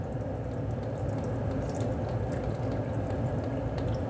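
Chicken stock poured into a cooking pot for beef and potatoes, a steady, continuous liquid pour of even loudness from start to finish, close by with no talking.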